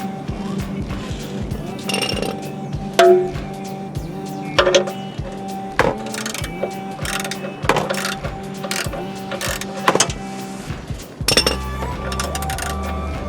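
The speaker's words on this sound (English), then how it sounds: "Okay, I'm loosening the oil bolt." Ratchet loosening a car's oil drain bolt, rapid clicking pawl strokes in repeated short bursts with metallic clanks, close by.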